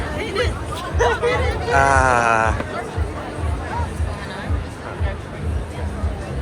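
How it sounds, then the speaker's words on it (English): Crowd chatter on a busy sidewalk at the 2023 Toronto International Film Festival: a constant babble of many voices, with one nearer voice briefly standing out above the murmur. "What the heck is this crowd?"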